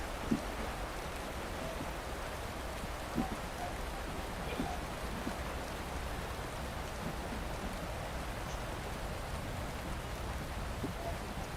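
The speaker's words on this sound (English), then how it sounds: "Well, it's raining again around the volcano." Steady rain falls around a volcano in a dirt race video game, a soft, even hiss throughout with a few faint taps and voices murmuring underneath.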